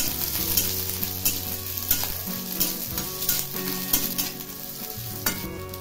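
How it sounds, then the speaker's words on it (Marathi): Spicy green chilies sizzle and crackle loudly in a hot pan for a green dry mackerel chutney, a continuous frying hiss with irregular pops and stirring scrapes, no voices. "आता मिरची भाजून घ्यायची आहे."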